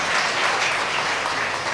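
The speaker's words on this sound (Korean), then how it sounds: "잠깐 박수로 환영하겠습니다" A church congregation applauds to welcome visitors at a Sunday service in Ho Chi Minh City, with dense, steady clapping from many hands filling the room throughout.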